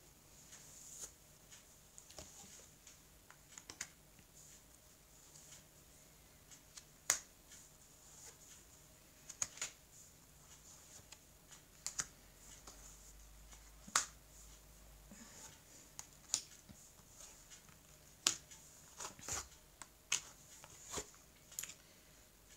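Tarot deck being cut and covered, giving a series of sharp, sparse card snaps and taps spread irregularly over a quiet room, close and fairly soft.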